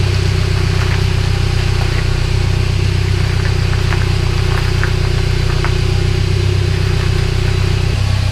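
A 1998 Toyota Tacoma fitted with a PSC ram assist steering setup idles with a loud, steady low engine drone as the wheel is turned, faint clicks and a slight shift in tone near the end.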